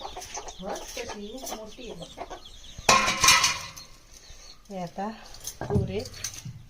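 Chickens cluck and a hen squawks at close range amid occasional human talk, with a sharp clatter in the middle.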